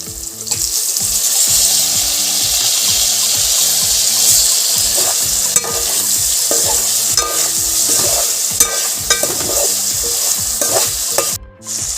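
Ginger and tomato pieces frying for rava kichdi, a steady close sizzle in the pan broken by frequent scraping stirs of a spoon, with no talking.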